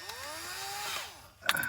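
A low-powered cordless drill works as a screwdriver during a camper electrical install, its motor whining up in pitch and then winding down, followed by a brief sharp clatter.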